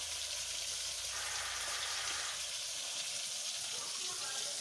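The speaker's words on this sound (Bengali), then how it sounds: "মাছ ভাজছি।" Steady, close sizzling and crackling of fish frying in hot oil on a portable stove, a continuous dense hiss with no pauses.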